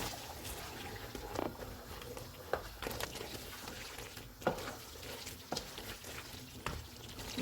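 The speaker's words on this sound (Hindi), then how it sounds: "पाँच मिनट के बाद इसमें प्याज और दही का पेस्ट डालेंगे और इसको 7 से 8 मिनट तक भूनेंगे।" Mutton frying in a pan with onion and yogurt paste for a white korma: a steady low sizzle broken by intermittent scraping knocks of stirring, close up with no speech.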